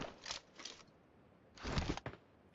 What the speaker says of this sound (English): that was the sound of footsteps, of a drop-in footstep starting on wood, then a pause, and then running on wood